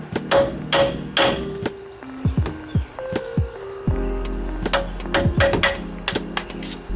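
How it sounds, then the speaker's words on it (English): Repeated metallic hammer taps drive a bolt out during a 2007 Kia Sorento upper control arm replacement, sharp and close, in irregular bursts with pauses, over a low mechanical hum. "I'm gonna tap it gently on the other side with a hammer to try and get it to move out"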